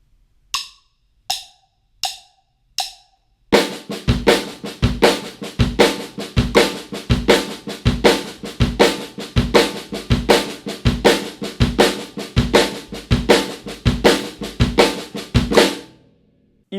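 A drum kit plays four count-in clicks, then a steady repeating pattern of right and left strokes with a kick split between the snare and kick drum, slow and even, loud and close.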